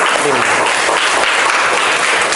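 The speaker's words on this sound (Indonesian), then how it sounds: "kasih aplaus untuk kelompok" Classroom audience applauds a presenting student group, a dense steady clapping that stays loud and even throughout.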